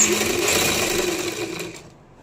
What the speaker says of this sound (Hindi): तो ये देखिए बैक की गले की सिलाई